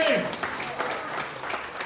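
Applause from a church congregation during a worship service, a short burst of dense clapping mixed with a voice speaking over it.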